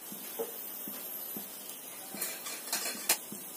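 A spoon scraping and knocking inside a cooking pot (handi) while preparing dal, soft rhythmic stirring clinks close by with a faint sizzle underneath, no talking.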